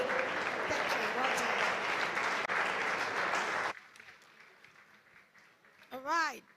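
A conference hall audience at a trade conference claps for a speaker, a dense steady burst of applause that stops abruptly, followed by faint room noise and a short voice.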